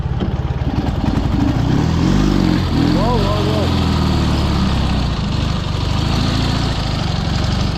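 A Dnipro-11 cross motorcycle with a sidecar rumbles through swampy ground, its engine loud and steady with revving surges, while voices talk over it.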